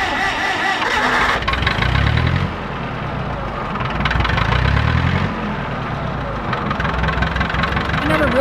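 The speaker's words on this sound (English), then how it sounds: "let's jump outside and see if this tractor will fire up" An older International tractor engine with a rebuilt Marvel Schebler carburetor starts up and runs, a rough loud chugging idle with knocking pulses, close by and continuous.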